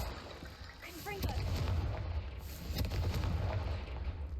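A Confringo fire spell explodes in the Hogwarts Legacy video game as a deep, booming blast with a rumbling tail over steady game ambience, and a second thud follows near the end.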